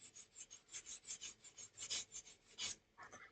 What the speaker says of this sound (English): I'll sand down the opposite side